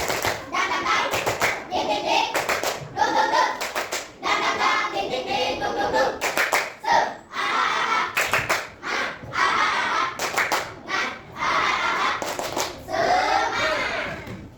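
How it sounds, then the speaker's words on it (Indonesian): A classroom of children doing the tepuk semangat rhythmic clapping chant during an Islamic religious education lesson, with sharp patterned bursts of claps alongside loud children's voices chanting together, steady and close throughout. "Ayo kita tepuk semangat dulu"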